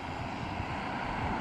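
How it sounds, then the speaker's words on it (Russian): A fixed-wing airplane passes overhead above a park, a steady broad engine drone that stays fairly even and moderately distant throughout, with no talking. "Самолет летит."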